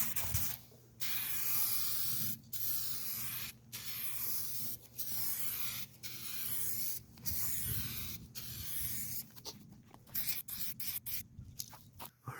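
Aerosol spray can laying clear coat on old GX470 headlights being restored, several close, hissing bursts of a few seconds each separated by short pauses, ending in a quicker string of brief sprays.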